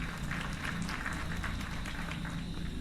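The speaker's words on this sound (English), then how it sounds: "Wait, we have an applause sound effect." A canned applause sound effect played during a podcast episode, a steady, moderately faint wash of crowd clapping lasting a few seconds, with a low hum underneath and no speech.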